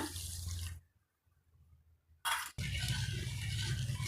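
Water pours steadily into a pan of sugar, splashing loudly, stops briefly, then resumes with a strong hissing pour, while making Mysore pak.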